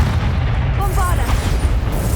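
A Bombarda blasting spell going off in Hogwarts Legacy during a final boss fight, a loud booming explosion with sustained rumbling low end, up close, mixed with game voices and effects.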